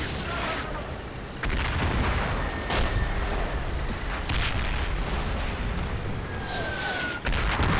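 Heavy artillery fire in the wargame Combat Mission: Red Thunder: sharp booms and blasts going off repeatedly over a dense, continuous rumble of battle, some impacts close and loud, others more distant.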